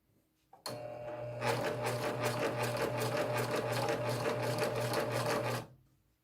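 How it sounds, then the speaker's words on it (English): A coverstitch sewing machine hems the bottom of a sweater, running in one steady, close, loud burst of fast stitching. It starts after a brief whir, picks up speed, then stops near the end. No one speaks. "And now I'm cover stitching the hem at the bottom."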